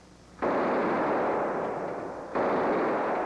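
Two sustained bursts of C7 rifle fire during small arms testing, a long dense roar starting abruptly, then a brief dip before a second loud burst resumes, close and harsh with no voices.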